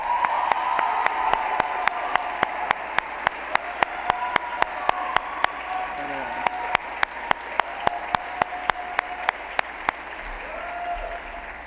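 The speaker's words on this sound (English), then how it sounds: "Please give them a round of applause." Commencement audience applause for a physician assistant program ceremony, a broad steady wash of clapping with a few distinct close claps standing out, continuing throughout at moderate loudness.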